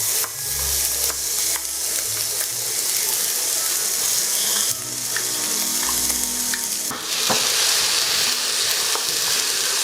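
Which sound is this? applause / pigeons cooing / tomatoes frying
tomatoes frying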